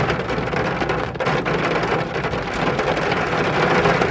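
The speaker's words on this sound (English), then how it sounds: "And here comes the rain." Steady heavy rain pouring down, a dense continuous hiss of drops with a low rumble beneath, loud and close, with no voices.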